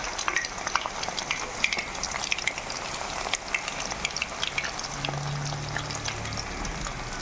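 Chilli chicken frying hard in a pan, a dense crackling sizzle that runs continuously at close range with sharp pops throughout and no talking, a faint low hum entering toward the end.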